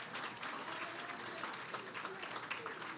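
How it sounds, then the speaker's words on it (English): Audience applause at a community partnership breakfast, a steady patter of clapping from a crowd, moderately distant and continuous. "Clap your hands if you agree with that."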